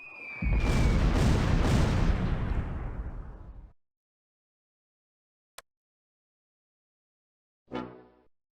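Artillery and mortar fire in the Close Combat 4 Battle of the Bulge game: a loud, sustained rumbling barrage for about three seconds, then a sharp isolated crack, then a shorter distant boom.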